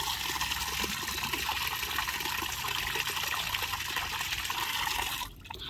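Water runs steadily into a large storage tank at a showroom, a continuous loud rushing and splashing that holds for about five seconds before easing off near the end.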